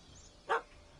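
A single short puppy bark rings out once in The Witcher 3, moderately loud and brief, set against a quiet game ambience with no talking.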